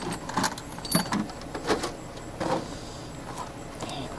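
Old metal sockets clink and rattle in a toolbox, a handful of bright, scattered metallic knocks and jingles at low volume, close by, with no talk.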